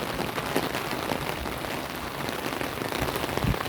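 Heavy rain pours steadily, a dense continuous hiss of drops hitting surfaces, with no voices.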